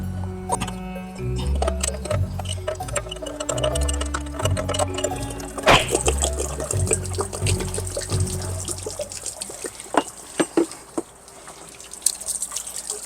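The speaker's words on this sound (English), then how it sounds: "it's draining the rest of the water at that level" Water drains steadily from a Suburban RV water heater tank during an element replacement, a continuous close trickle and splash with scattered metallic clinks and taps over it.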